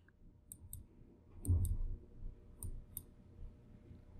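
Crisp mouse clicks on an Add button in employee access-control software come in quick pairs, about four double clicks spread evenly, close and clear over a soft low background rumble.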